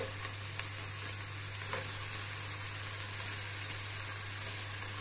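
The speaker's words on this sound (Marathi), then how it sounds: "हे प्राउन्स मस्तपैकी ह्या कांद्यामध्ये आपण शिजवून घेणार आहोत" Prawns sizzling and frying with softened onions in a pan for a Goan prawn curry, a steady close crackle and hiss running throughout with a few brief stirring clinks and no voices.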